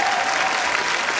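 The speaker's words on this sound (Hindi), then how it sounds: "इसके लिए भी जोरदार तालियां" Studio audience at a comedy talk show breaks into loud, sustained applause, a dense steady wash of clapping that fills the room with no speech over it.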